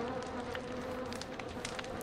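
Bees buzz around a bee nest in the survival video game Don't Starve, a steady, faint, even drone that runs unbroken for the whole moment with no talk.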